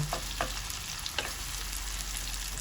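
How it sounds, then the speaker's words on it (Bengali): Onions for a mutton curry fry lightly in oil with a low, even sizzle. A few sharp stirring clicks and scrapes sound close by. "পেঁয়াজটাকে আমি হালকা লাল লাল করে ভেজে নেব"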